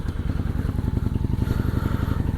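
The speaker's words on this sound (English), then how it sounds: "Let's go ahead and fire this bad boy up." Motorcycle engine running at a steady idle just after being fired up, a loud, close, rhythmic low putter with even pulses and no talk over it.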